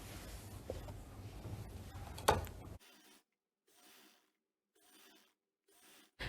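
A sewing machine stitches trouser fabric in several short, rasping bursts separated by quiet pauses, close and fairly faint, after a denser stretch of rubbing handling noise.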